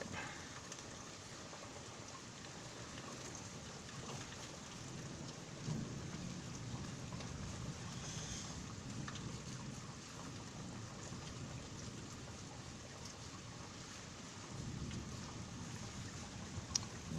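A severe thunderstorm with intense lightning pours steady heavy rain, while rumbles of thunder roll through at intervals beneath the constant downpour.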